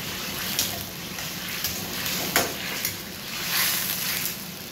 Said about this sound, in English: Stir fry, yeah.